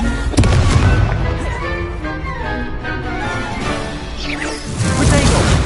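Confringo fire spell in Hogwarts Legacy: loud crackling blasts and bangs with whooshing effects over dense battle noise, continuous and close.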